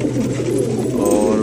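Roller pigeons coo in a steady, low, throaty murmur that runs unbroken and close, with no voices over it.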